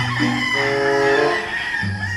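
A gamefowl rooster at a game farm lets out one loud, close, drawn-out crow, followed by a shorter call, with no talk.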